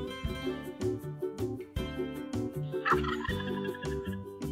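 Wild turkeys gobble repeatedly in a suburban backyard in close, rapid, rolling bursts that overlap one another and keep up throughout, with no voices present.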